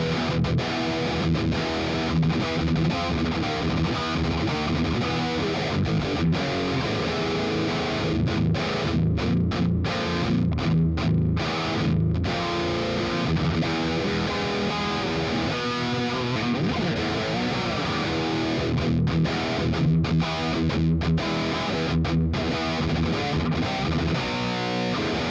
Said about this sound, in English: the solid state channel, the distortion channel is ridiculous.